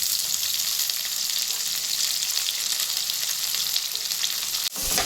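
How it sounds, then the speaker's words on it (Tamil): Tomatoes sautéing in a pan for a spicy Chettinad baby potato fry, a continuous hissing sizzle that holds steady and close, ending with a brief clunk near the end; no voices. "தக்காளி நல்லா வதங்கட்டும்"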